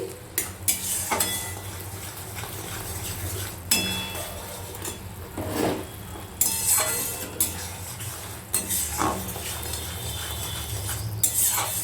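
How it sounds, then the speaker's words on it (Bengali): A spatula scrapes and stirs mustard paste masala in a pan for hilsa curry, giving repeated close clinks and scrapes against the metal over a soft sizzle, with no talk. "মশলাটা একটু নেড়ে নিচ্ছি"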